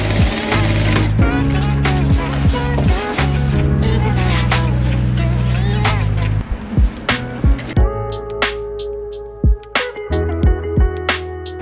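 A sewing machine stitches around a waterproof organizer pouch, joining lining to main fabric, with a rapid, steady mechanical buzz for about eight seconds. It then stops, leaving a few isolated clicks over a quieter background.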